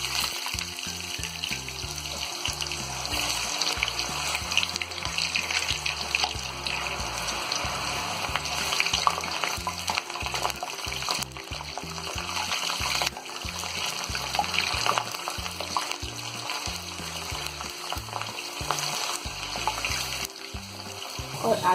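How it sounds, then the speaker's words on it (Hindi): Potatoes frying in hot oil in a kadai give a steady, close, bubbling sizzle with a watery, crackling texture that runs evenly throughout, alone with no talk. "अब इसमें ये आलूओं को फ्राई करेंगे।"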